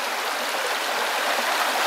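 A swollen forest stream on a Luxembourg hiking trail rushes after two days of rain, a steady, dense roar of running water close by with no pauses.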